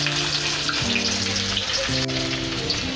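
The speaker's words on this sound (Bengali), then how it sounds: "আমি একটা পেঁয়াজ কেটে দিয়ে দিলাম।" Chopped onion fries in oil in a wok with dried red chilli, giving a steady dense sizzle throughout, with low tonal hum underneath and no talking.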